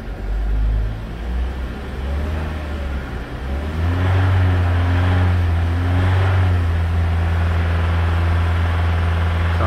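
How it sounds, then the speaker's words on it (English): A 2017 Chevrolet Equinox engine idles steadily after starting, a low rumbling drone with a faint repetitive rod knock underneath, heard close and continuous. "Sounds like it's got a rod knock."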